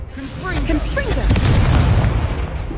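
Confringo explosive spell cast in Hogwarts Legacy, a near booming blast that swells after a shouted voice and rumbles on for over a second.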